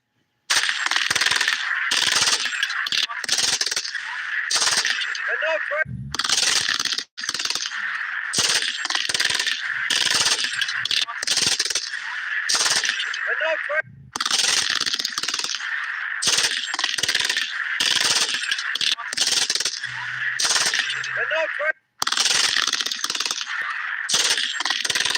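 MG3 machine gun firing in long, loud automatic bursts of rapid crackling shots, separated by short pauses, played back through a phone speaker with a thin, compressed sound.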